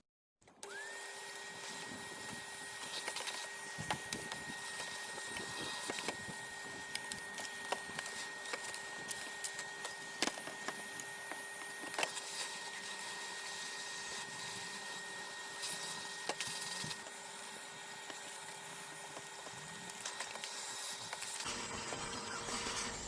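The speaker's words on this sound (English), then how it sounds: "with the vacuum cleaner we're gonna suck out all the debris into the vacuum cleaner" A vacuum cleaner drones steadily and quietly, sucking loose debris out of the EGR valve chamber on a Honda Civic Mk8 2.2 CTDi. A whine holds through the whole run, with faint rattles of particles, and it cuts off at the end.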